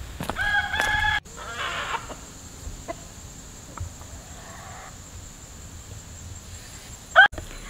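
Chickens cluck and a rooster crows nearby at the start, followed by quieter scattered bird sounds and a short call near the end.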